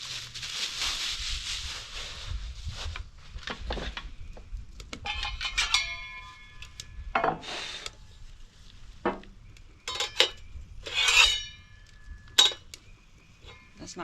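Cowboy skillets are set down on a GoHawk wood stove, giving several irregular metallic clanks, clinks and scrapes separated by quieter stretches.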